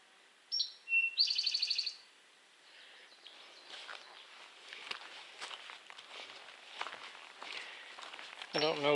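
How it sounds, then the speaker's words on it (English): Morning birdsong on a trail: a few bright chirps and short trilled calls, fairly near, over soft rustling footsteps. "I don't know birds well enough to know which ones those are."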